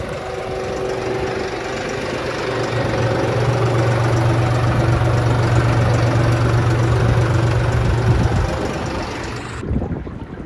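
A Deutz-Fahr tractor pulling a cultivator through a farm field runs with a steady, loud diesel drone and low hum for about nine seconds, then cuts off abruptly.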